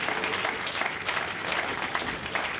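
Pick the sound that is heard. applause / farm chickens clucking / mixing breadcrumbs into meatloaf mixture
applause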